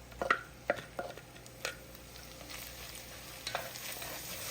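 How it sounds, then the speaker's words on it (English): An onion and zucchini mixture sizzles with turkey in a pan, a faint steady fry broken by a few sharp clicks and scrapes of a utensil early on, without speech. "now we're going to be adding the onion and zucchini mixture that we blitzed up in the food processor"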